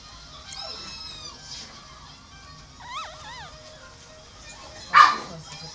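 Thin, high-pitched whimpers and whines from a Yorkie puppy, a few wavering cries spread out, with a sharper yelp near the end and faint background noise.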